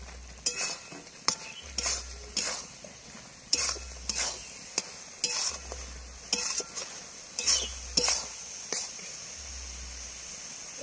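A spoon stirs and scrapes ground chana dal mixture around a frying pan for motichur laddu, sharp repeated metallic strokes in an uneven rhythm over a soft sizzle, close and fairly loud.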